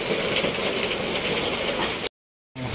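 Heavy rain falls on surfaces around a flooded home, a dense, steady hiss and patter up close that cuts out abruptly to silence for half a second before resuming.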